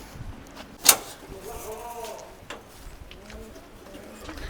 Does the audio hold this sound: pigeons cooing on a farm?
yes